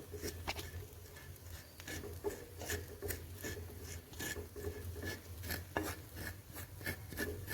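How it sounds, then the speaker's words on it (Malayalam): Dry ingredients for a home hair-darkening remedy being roasted in a pan until black, stirred with a soft, rhythmic rasping scrape that repeats evenly and stays faint and close, no voices. "നമുക്കിത് വറുത്തെടുക്കാം"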